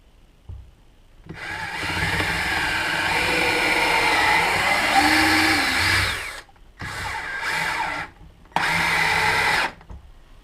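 Power drill driving long wood screws into a wooden bird nesting box, a loud sustained whirring run of several seconds followed by two shorter bursts separated by brief pauses, close up.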